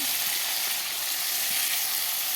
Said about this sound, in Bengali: এখানে রুটির জন্য দেখো গাজর আলু ভাজা বসিয়ে দিলাম।